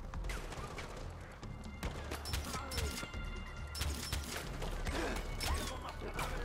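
Gunfire in the video game Far Cry 4, set in the Himalayas, comes as scattered bursts of shots and clattering mechanical noise that go on steadily through a busy, dense mix at moderate loudness.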